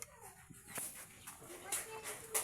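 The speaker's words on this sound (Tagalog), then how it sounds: "Tahol ka ng tahol." A dog barks and yips faintly in short, spaced bursts at a distance, with indoor background noise around it.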